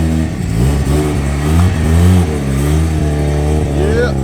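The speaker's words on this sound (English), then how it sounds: "we'll listen to the sound of the engine" A Mazda RX7 road-legal time attack car with a rotary engine and big TD07 turbo revs hard, its loud engine note rising and falling in several sweeping pulls close by.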